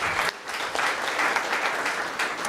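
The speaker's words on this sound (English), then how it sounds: "Let's give them another round of applause." Audience at a conference opening ceremony applauding a row of named speakers, a sustained, even roar of clapping from a large crowd, loud and continuous with only slight swells and no voices.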